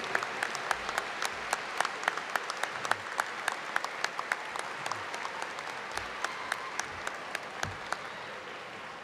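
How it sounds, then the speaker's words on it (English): Graduation audience at the ETAMU Spring 2025 graduate ceremony giving applause and a standing ovation, a dense, sustained clapping crowd with sharp individual claps standing out throughout. "Please join me in giving a round of applause and a standing ovation to the people that helped you get here."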